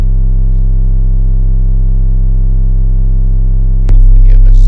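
A steady, loud oscillator tone from a modular synth with rich harmonics holds unbroken while its frequency is raised, then abruptly shifts near the end with a burst of brighter noise.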